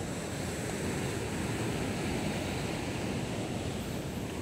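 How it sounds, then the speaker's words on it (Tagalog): Steady surf washes in on the beach at Balute Island, a continuous broadband roar of breaking waves with no voices, holding an even level throughout. "Ito ang dagat ng Baluti."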